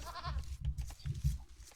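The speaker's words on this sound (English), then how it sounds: "And here I bring in my sheep." Sheep bleat in the Age of Empires video game, a couple of short nasal calls near the start over low rumbling game ambience.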